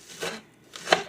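Two crisp knife chops strike a cutting board close up as vegetables are cut, spaced apart with quiet between them.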